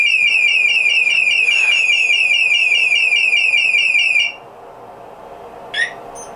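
A Scorpio I600i motorcycle alarm wails a loud, rapid warbling siren close up for about four seconds, then cuts off, followed by a single short chirp moments later.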